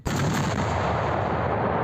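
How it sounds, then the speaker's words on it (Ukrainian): A single loud blast from a Soviet-era self-propelled howitzer booms close by, its roar rolling on and slowly decaying. "Самохідна гаубиця ще радянських часів"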